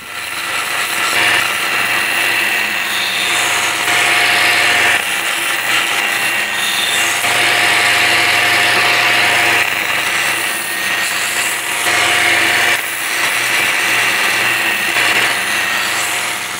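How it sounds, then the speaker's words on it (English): A belt sander works along the edge of a walnut and resin board, a loud continuous whirring grind with short dips and surges as it is pressed and lifted. "next thing I'm going to do is going to use this belt sander, kind of get in here, rip this tape off, clean that edge up"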